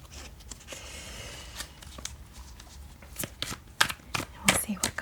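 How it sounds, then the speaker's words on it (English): Tarot cards shuffled by hand in a quiet room, soft riffling and papery flicks building into sharper, closer snaps toward the end, with a few brief murmurs of speech between them. "I'm going to ask you to blow on the cards."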